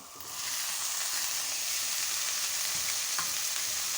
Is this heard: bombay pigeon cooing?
no